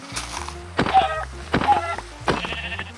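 Sheep in the Minecraft video game bleating three times in quick succession, short wavering bleats spaced about a second apart, fairly close, with soft thuds underneath.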